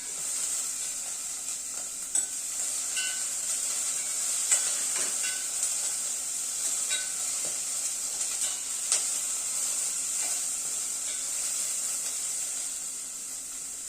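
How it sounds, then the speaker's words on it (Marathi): Cauliflower florets and peas frying in hot oil for a dhaba-style veg Kolhapuri, giving a steady bright sizzle with scattered small pops and crackles throughout. "वाटाण्याने फ्लावर छान असं तेलामध्ये आपल्याला फ्राय करून घ्यायचं आहे."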